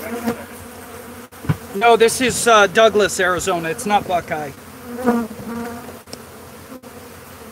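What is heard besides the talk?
buzzing killer bees (Africanized honey bees)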